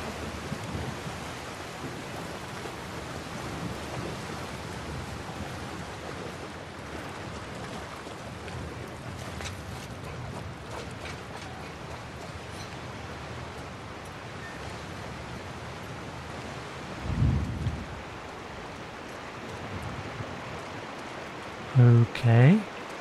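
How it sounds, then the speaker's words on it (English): Steady rain and storm wash in the video game The Last of Us Part II, a broad continuous hiss filling the scene for over twenty seconds, with a couple of brief low thumps near the end; no distinct thunderclap stands out. "Looks like a storm's coming."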